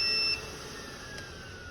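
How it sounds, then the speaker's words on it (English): Occlusion alarm of a 3M Versaflow powered air-purifying respirator, a steady high-pitched electronic tone sounding close and clear for about a third of a second before cutting off, leaving a low hum. "make sure that occlusion alarm works"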